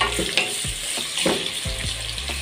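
Onions and tomatoes frying in a pan for a chicken and chicken-liver dish, a steady hiss of sizzling oil broken by repeated scraping stirs at close range.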